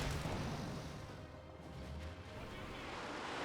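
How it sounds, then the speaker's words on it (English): Panzerwerfer rocket artillery barrage in Company of Heroes 2, a dense, steady wash of distant rumbling blasts and crackle that runs throughout without clear breaks. "Panzerwerfer barraging."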